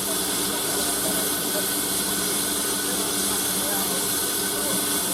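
Loud, continuous hiss of steam with a deep rumbling engine underneath as a steam locomotive departs Wittersham Road station on the Kent and East Sussex Railway, steady and close throughout.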